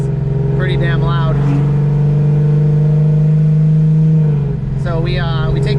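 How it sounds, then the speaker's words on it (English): A loud car exhaust, unmuffled by removed rear seats, drones steadily at a low pitch throughout, with people talking over it at the start and near the end. "without the rear seats, my exhaust is pretty damn loud"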